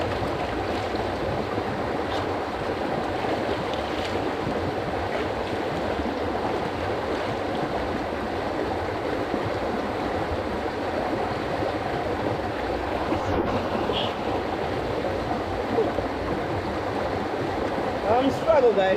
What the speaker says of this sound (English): Well, when water is running like this,